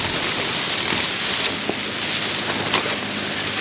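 Steady heavy rain from a tropical storm drums on a campsite shelter at a mountain peak, a dense unbroken wash with occasional louder drops and gusty undertones, close and continuous with no voices.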